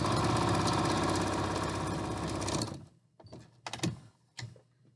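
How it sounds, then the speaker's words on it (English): A sewing machine stitches along a fabric tube for a strap, running in a dense continuous whir for nearly three seconds, then stopping; a few sparse clicks and taps follow in the quiet. "just sew right off the end"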